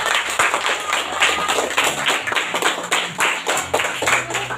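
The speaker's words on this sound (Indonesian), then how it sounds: "Ayo berikan tepuk tangan yang meriah" Classroom audience of students and teachers clapping for group presentations, loud close rhythmic hand claps in irregular bursts filling the room.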